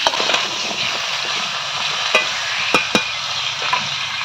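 Mango pieces being mixed by hand with salt for a sour-sweet monsoon pickle, a steady soft wet rustle and squelch with a few sharper clicks, close and alone with no talk.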